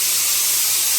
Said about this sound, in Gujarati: મમ્મી અહીંયા શાક વઘારે છે